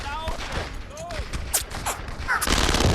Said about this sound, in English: I'm gonna get on this machine gun right here.